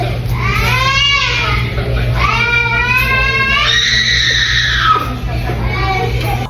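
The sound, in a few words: baby screaming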